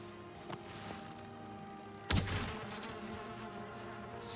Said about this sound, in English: Screw you, bees.